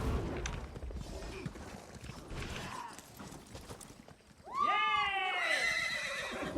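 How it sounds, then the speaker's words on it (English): Horses neigh in the Elsweyr region of Elder Scrolls Online, a loud rising whinny bursting in near the end after quieter game sounds and faint hoof clatter. "Started the horses"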